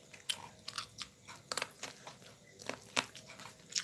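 Someone chews corn, giving off quiet, irregular crunches close to the mic with short pauses between bites, and nobody speaks.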